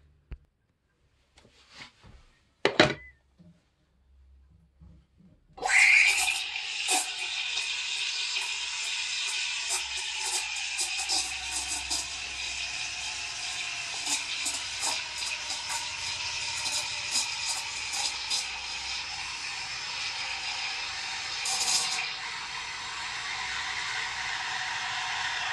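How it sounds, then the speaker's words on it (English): Rocket R58 V2 espresso machine steam wand steaming milk, a steady loud hiss that starts abruptly after a few faint clicks and runs continuously to the end, with slight fluctuations in texture. "So now let's steam some milk."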